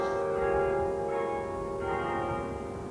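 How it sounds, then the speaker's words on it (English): Church bells ring from the bell tower in Loughborough, ringing tones overlapping in a sustained peal that sounds moderately distant, steady and without talk. "famous bell tower was today ringing out another unique recital"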